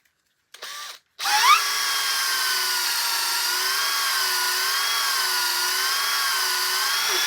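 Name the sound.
power tool reaming a fishing rod handle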